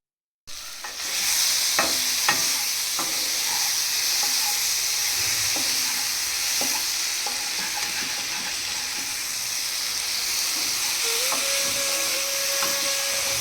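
Sugar syrup for mango pickle bubbles and sizzles in a pan on the stove under a steady hiss, with occasional scrapes and taps from stirring.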